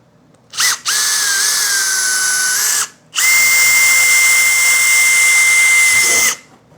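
A power drill with a 1/4 inch bit bores a hole in two loud, close bursts, each a steady high whine lasting a few seconds.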